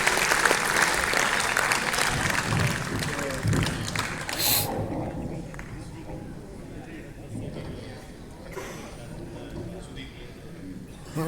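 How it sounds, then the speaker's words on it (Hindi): An audience at a Kavi Sammelan poetry gathering in Rohtak applauds a poet. Loud, dense clapping lasts about four seconds, then cuts off into a low murmur of the crowd, with a faint brief patter later on. "दोनों हाथ उठाकर इस देश के बड़े कवि का सम्मान बड़ी तालियों से करिए।"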